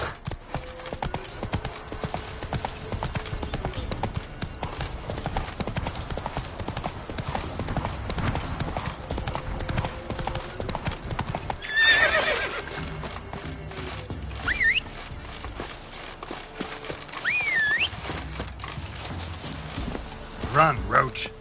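Roach, a horse in The Witcher 3, gallops with quick, continuous hoofbeats for a long stretch. Occasional voices and game sounds come through over the steady drumming.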